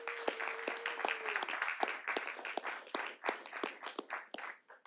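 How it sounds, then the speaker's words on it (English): An audience claps through a city board of directors meeting, a moderate, uneven patter of many hands with sharper individual claps standing out and a brief low tone near the start. "give them a round of applause"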